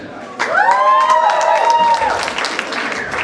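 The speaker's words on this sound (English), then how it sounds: "Another round of applause for Manu and Selena." An audience at a community gathering applauds, a dense burst of clapping that rises suddenly and holds fairly loud, with a voice speaking over it.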